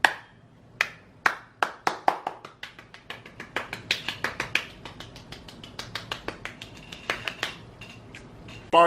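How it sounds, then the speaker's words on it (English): Sparse, sharp individual claps, irregular and fairly close, forming a thin round of applause that starts slow and quickens slightly before a voice cuts in at the end. "give a round of applause for the man who apparently now has infinite strength"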